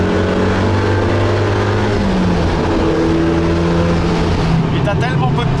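A lightweight 400-horsepower sports car accelerates on the road, its engine roaring loudly and continuously from inside the cabin, with people talking over the noise.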